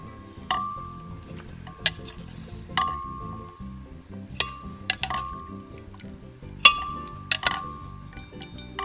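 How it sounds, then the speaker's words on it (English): Soaked dried peppers are dropped one after another into a glass blender, giving sharp, bright clinks at uneven intervals with soft wet knocks between them. "I'm going to throw them into my blender here."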